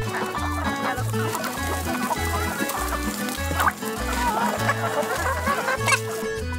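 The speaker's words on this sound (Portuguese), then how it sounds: "A galinha canela preta pura de origem. É ave caipira genuinamente do Piauí" Canela Preta chickens, a free-range breed from Piauí, cluck steadily and close by, with repeated calls and occasional sharper squawks over a busy farmyard background.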